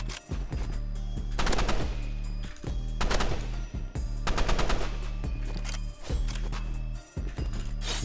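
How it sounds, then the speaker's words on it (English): Rapid gunshots in the Roblox shooter game Rivals, fired in repeated bursts of quick cracks over a steady droning background, loud and close. "Alright, we're nailing him with some shots."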